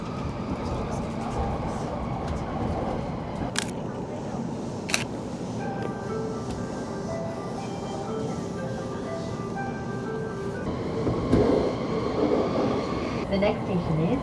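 A Yamanote Line train in Tokyo runs between stations, with a low rumble and rattle of the carriage, faint clicks of the track, a few sharp knocks and a swell of noise near the end.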